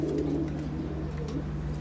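Pigeons in a coop, including a breeding pair sitting on eggs, give a short run of low, close cooing over a constant hum.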